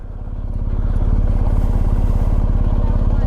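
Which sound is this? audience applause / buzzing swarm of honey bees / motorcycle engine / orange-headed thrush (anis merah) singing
motorcycle engine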